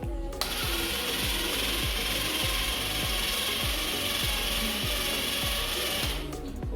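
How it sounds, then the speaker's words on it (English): A solar-powered floor cleaning machine runs its mopping system with a loud, steady mechanical scrubbing and rasping noise under a rapid repeating knock, starting abruptly and stopping near the end. "Okay, so this is the mopping functions."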